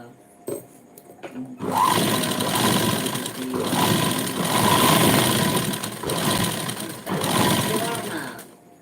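An Usha double sewing machine runs steadily for several seconds after a brief quiet start, its busy mechanical whir rising and dipping slightly, close and fairly loud, with a voice speaking over it.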